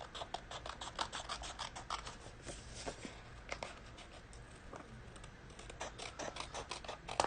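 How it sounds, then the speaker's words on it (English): Paper snips trim around the outside of a paper envelope flap for a Valentine's Day card, making rapid, faint, rhythmic snipping clicks close up, with no talking. "you're going to take your paper snips and just trim around the outside"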